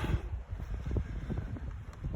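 Gusty wind buffets the microphone at a takeoff spot before launch, facing into the wind, a steady low rumble with irregular surges throughout and no voices.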